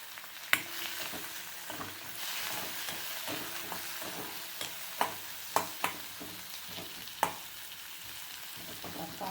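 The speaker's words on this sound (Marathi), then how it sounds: "आता हे मी कांदा, आलं, लसूण, हे मिरच्या हे थोडंसं भाजून घेणार आहे" Onion, ginger, garlic and green chillies fry in oil for green chicken, a steady close sizzle broken by repeated sharp clacks of a spatula stirring against the pan, no voices.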